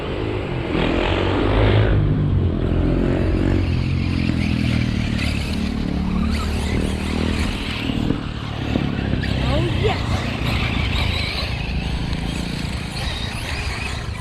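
Electric RC cars, a Losi 8ight-E, a Traxxas T-Maxx and an ECX Ruckus, race together with a steady loud whirring drone and rough clatter across the ground as people talk nearby.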